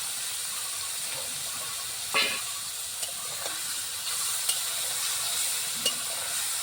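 Small fish frying in hot oil in a wok, a soft steady sizzle with a few sharp crackles and spits, close and fairly quiet, with no talking.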